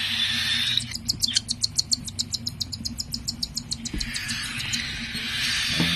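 Baby raptors chirp during feeding, a rapid series of high, sharp cheeps in steady rhythm that rise and fade over a few seconds, with faint background hiss and low rumble.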